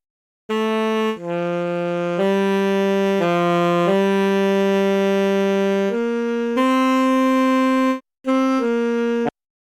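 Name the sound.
Iowa Alto free saxophone plugin played dry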